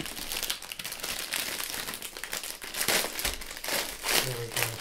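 A plastic dessert tray holding a Cadbury tart crinkles and crackles as it is handled and unpacked, busy rustling throughout with a short voiced murmur near the end.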